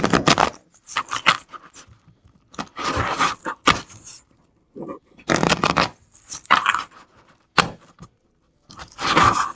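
Tarot cards being shuffled by hand in quick bursts of papery riffling and rustling, separated by short pauses, close and fairly loud with no voice.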